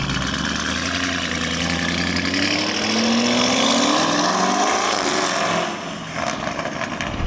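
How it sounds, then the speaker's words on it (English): A Novitec-tuned Lamborghini Urus V8 sends out a loud, throaty exhaust roar that rises in pitch, swells and then drops back as the revs fall, close and continuous. "it's really just a beautiful, loud V8 sound"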